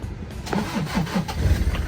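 A Toyota Tiger D4D 2.5 turbo diesel pickup from 2003 cranks with several rhythmic starter turns before the engine catches and settles into a low, rumbling idle, heard close up.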